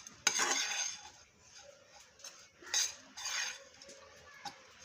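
Grated coconut dry-roasting in a pan for multigrain laddoos, a spatula scraping and clinking against the metal in short bursts, fairly quiet and close, with no sizzle of oil.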